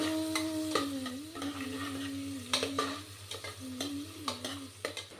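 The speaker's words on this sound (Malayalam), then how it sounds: "അപ്പോൾ നമ്മളിതാ ഉള്ളിയും തക്കാളിയും കിഴങ്ങൊക്കെ ഇട്ടിട്ട് ഒന്ന് വഴറ്റാൻ വേണ്ടിയിട്ട് ആദ്യം വെച്ചിട്ടുണ്ട്" Onion, tomato and potato sautéing in a pan for chicken curry in a small home kitchen, a steady close sizzle with repeated scraping stir strokes and a steady low hum underneath.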